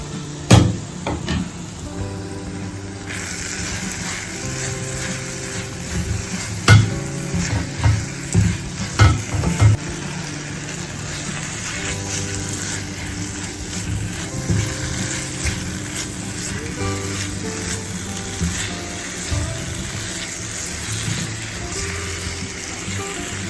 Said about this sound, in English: And I'll just continue stirring this.